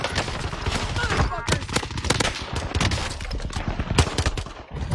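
Rapid gunfire from a Warzone battle royale match, dense bursts and single cracks firing continuously at close range, with players' voices talking over the shooting throughout.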